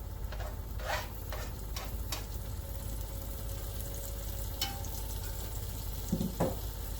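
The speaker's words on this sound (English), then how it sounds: "I'm just gonna start sauteing my mushrooms" Mushrooms sauté in beef grease in a preheated pan, giving a soft, steady sizzle with a few light utensil scrapes and clicks; no one talks.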